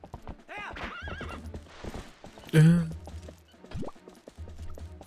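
Horse neighing with clip-clopping hooves in The Legend of Zelda: Twilight Princess, a loud whinny rising midway over steady hoofbeats while people talk throughout.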